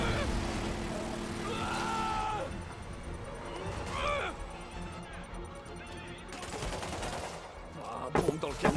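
Gunfire in Marvel's Spider-Man Remastered, with bursts and shots crackling amid engine and vehicle noise, while a voice talks over parts of it.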